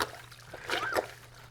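Clothes are washed by hand in a basin of water with shampoo, giving a brief, faint slosh and trickle with small splashes over about a second and a half, close by.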